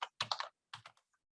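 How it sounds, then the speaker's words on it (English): Several quick keystrokes on a computer keyboard while a heading is typed into a spreadsheet, arriving in two short bursts of close, crisp clicks separated by a brief pause in an otherwise silent room. "we're going to type in a heading for this"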